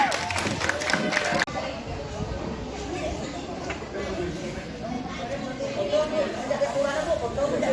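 Audience applause and cheering at a Balinese village language-month competition, a broad continuous wash of clapping and crowd chatter, moderately distant and mixed with voices and a brief loud burst near the start.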